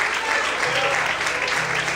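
Church congregation applauding during an evening sermon, a steady, fairly loud patter of many hands with a held tone and faint voices mixed underneath.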